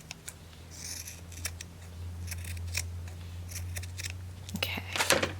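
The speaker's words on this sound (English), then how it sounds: "Now I'll do the rest with the scissors" Scissors snip through lace fabric in a series of short, crisp cuts close by, irregularly spaced over a steady low hum.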